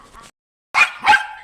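A small puppy found on the road gives a faint short sound, then two sharp, close yapping barks in quick succession.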